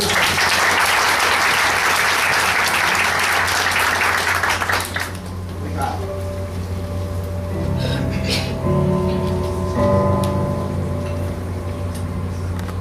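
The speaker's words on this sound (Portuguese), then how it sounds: "Uma salva de palmas para ele" Loud audience applause greets the opening act at a spiritist tribute event, a dense crowd of clapping that cuts off after about five seconds, leaving a quieter room with faint murmurs and tones.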